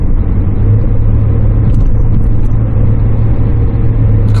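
A Hyundai Grandeur TG 2.7 LPG sedan accelerates on the road, its engine giving a loud, steady low rumble heard from inside the cabin, with no talk over it.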